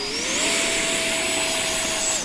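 An FMS F18 remote-control model jet flying at Eastgate Park, its electric ducted-fan whine rising in pitch, holding a loud steady high tone and then dipping at the end, with no voices.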